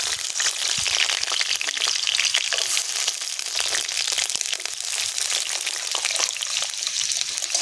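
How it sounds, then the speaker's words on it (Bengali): Diced potatoes frying in hot oil for a mushroom curry, a dense steady crackling sizzle with sharp pops that holds loud and close, alone without talk. "আর আলুগুলো ভেজে নেব।"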